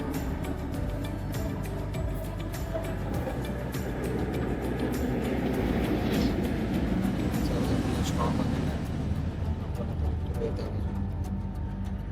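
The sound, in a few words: riding the Malaysian metro train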